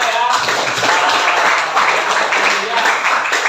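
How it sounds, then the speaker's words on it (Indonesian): A classroom of students clapping for a classmate, a dense, continuous patter of many hands that stays fairly loud and close from start to finish, with voices mixed in underneath. "tepuk tangan untuk Arta ya"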